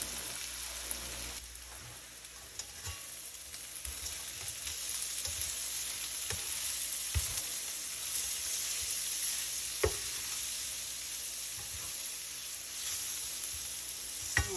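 Flat beans from a home garden, seasoned with ground cumin and coriander, fry in a pan with a soft, steady sizzle and occasional crackles, quiet and close, with no talking.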